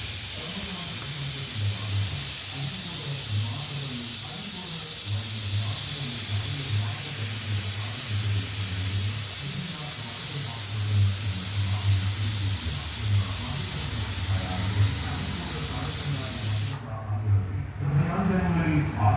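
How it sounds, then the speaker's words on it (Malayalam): Small shallots sizzling as they are tempered in hot cooking oil for a curry, a loud, steady frying hiss that runs nearly unbroken, with faint voices underneath, before cutting out near the end. "ഇനി കുറച്ച് ചെറിയ ഉള്ളിയൊക്കെ എടുത്തിട്ട് ചെറിയ ഉള്ളിയിൽ അങ്ങോട്ട് വറവിട്ടാൽ കറി സൂപ്പറായി"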